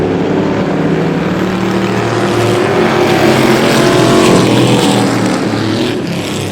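Vintage race cars roaring around the oval at Star Speedway, a loud sustained engine drone from several cars close by, swelling and fading slightly as the pack passes, with no talk.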